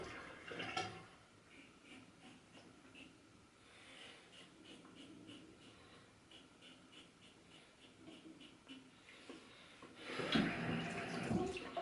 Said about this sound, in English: You just kind of rinse off.